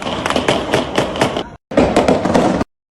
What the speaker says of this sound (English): that is a lot of gunfire